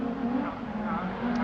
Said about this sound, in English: Sliding the car on the exit of the right-hander.